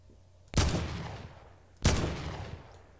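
Two loud gunshots from a gun in the Fortnite video game, each a sharp crack with a booming decaying tail, spaced a little over a second apart with no talk.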